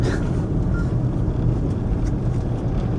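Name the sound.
traffic jam of cars in Mandaue City, Cebu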